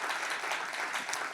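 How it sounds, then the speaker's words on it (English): A short burst of steady audience applause at a Write the Docs Berlin conference session closing the lightning talks, even clapping at moderate distance with no speech over it. "please give another warm round of applause to all of our lightning talks from today"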